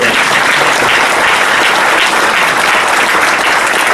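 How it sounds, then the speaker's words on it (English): Loud, sustained applause from a large audience at a city State of the City address, thick continuous clapping from many hands at an even level with no gaps. "Another round of applause for them."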